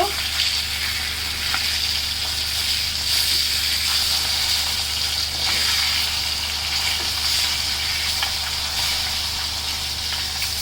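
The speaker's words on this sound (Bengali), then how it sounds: "এই কড়াইতে মাছটা একটু ভাজবো, তেল দিয়ে দিয়েছি" Koi fish frying in oil in a kadai, a loud steady sizzle with popping crackles and occasional stirring clatter, close and continuous throughout.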